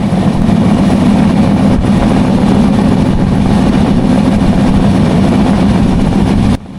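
Sagardari Express train running through Rupdia Junction station on the Jessore–Khulna line, a steady, loud low rumble and rattle of the moving carriages lasting throughout, cutting off abruptly near the end.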